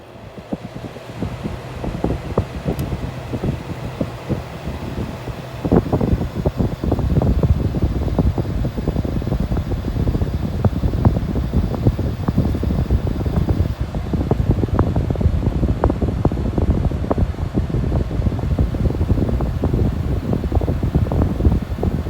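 A 2021 LG window air conditioner starts up with a soft whir that steps up in loudness after a few seconds into a steady fan roar with faint irregular ticks and rattles, running continuously and close by.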